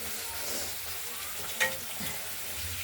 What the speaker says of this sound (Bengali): মাছগুলো ভাজা হচ্ছে, দেখুন।